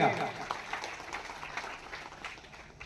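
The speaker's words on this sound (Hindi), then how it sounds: "एक बार जोरदार तालियों से इसका अभिनंदन" A crowd at an organisational gathering in India applauds a state president's introduction, a moderate, continuous wash of clapping that fades slightly toward the end.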